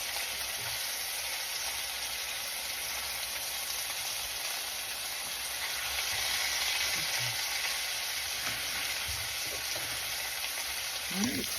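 Hamburger steak frying in a pan, a steady loud sizzle and crackle that continues without pause, with a few soft clinks of cookware underneath.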